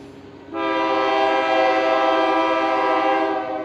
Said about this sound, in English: A short wait, then came northbound train 276 with some novelty power.